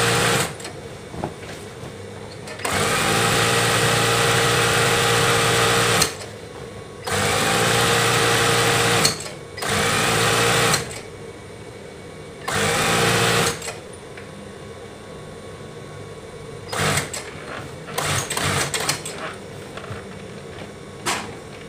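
A sewing machine stitches the elastic edge of a fitted bed sheet, running in long steady whirring bursts that stop and restart, loud and close, with brief quiet pauses between runs and no talk.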